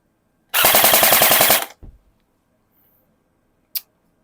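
A Sijun M4 V2.5 upgraded airsoft rifle fires a fast full-auto burst of about a dozen closely spaced shots, loud and close, followed by a brief mechanical rattle and one sharp click a moment later.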